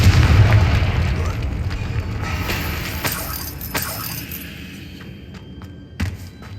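Confringo blasting curse in Hogwarts Legacy, a heavy booming explosion at the start that fades into a long rumbling decay with scattered debris crackles and a smaller thud near the end.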